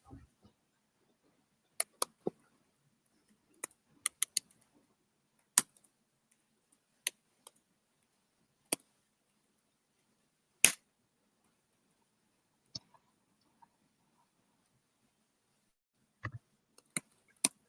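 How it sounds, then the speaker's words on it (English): Keyboard keys are struck in sparse, irregular taps and short clusters, sharp and faint against near silence, with long pauses between the bursts. "I'm just typing something out, moving some notes around"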